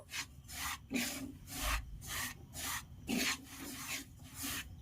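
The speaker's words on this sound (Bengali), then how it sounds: "গুঁড়ো দুধটা দিয়েও আমি কিছুক্ষণ নাড়াচাড়া করে নেব" Semolina and powdered milk are stirred in a pan, a steady rhythmic scraping and rasping of the spoon repeating about every half second, close and moderately loud with no voices.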